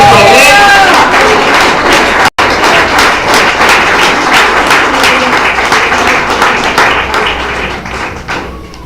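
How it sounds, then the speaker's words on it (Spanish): A church congregation breaks into loud, sustained applause and rhythmic clapping near and dense, with a brief cut partway through and the clapping slowly thinning toward the end. "Den aplauso a Él."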